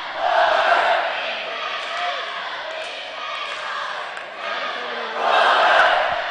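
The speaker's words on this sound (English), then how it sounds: "only crowd-friendly chant we've heard from the Bomber students this evening so far" Student crowd at a high school boys basketball game in Mountain Home, chanting in a loud, sustained roar that swells at the start and again near the end, with no clear individual voices.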